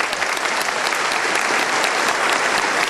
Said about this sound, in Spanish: Pido un aplauso para los dos.